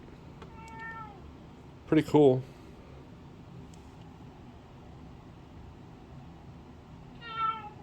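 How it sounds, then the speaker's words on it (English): A cat meows nearby in a quiet room, a faint short meow early, then a louder strained yowl, and another meow at the end, with someone speaking briefly between. "forgive the cat there"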